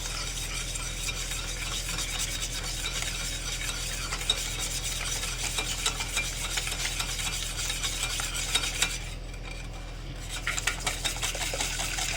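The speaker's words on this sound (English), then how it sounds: "So you whisk it really well." Cake batter mixed with milk is whisked steadily in a bowl, a continuous scraping, stirring sound with light clinks, close and alone without talk.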